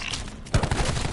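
Rapid automatic gunfire in Black Ops 4 Zombies, a quick burst of loud, closely spaced shots starting partway in after a short quieter lead-in.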